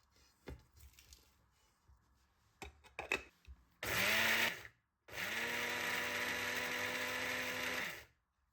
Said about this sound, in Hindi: सबसे पहले अचारी मसाले को हमने मोटा सा पीस लेना है